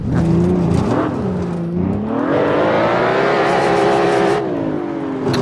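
A BMW 520i engine accelerating in Assetto Corsa, loud and steady, rising in pitch through a rev climb, briefly dipping, then revving high again before easing off, with no talk.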